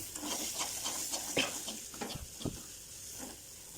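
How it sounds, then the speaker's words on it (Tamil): Beans poriyal is stirred in a pan over a high flame, a soft sizzle under repeated spatula scrapes and taps, fairly quiet and close. "ஹை ஃப்ளேமில் தான் இருக்குது. இப்போ நல்லா கலக்கி விட்டுக்கலாம்."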